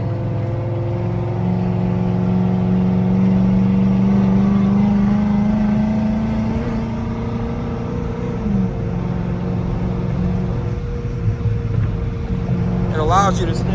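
A Chrysler 300C engine runs steadily as paddle shifters move it up through the gears, a continuous close drone whose pitch climbs and then drops around each shift.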